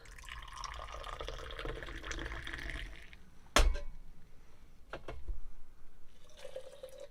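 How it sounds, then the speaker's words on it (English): Hot Moroccan tea streams from a metal teapot into a glass, a thin trickling pour that stops and restarts in short bursts, with a sharp clink of glass partway through and a brief final pour at the end. "So as I mentioned, we're going to pour it a couple more times."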